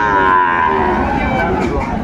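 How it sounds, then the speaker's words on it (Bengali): Sahiwal bull calves at a Bandarban cattle market give a long, loud, close moo that holds steady over a noisy market background. "একটু সেরা মানের গরুগুলো দেখান তো একটু আমাদের।"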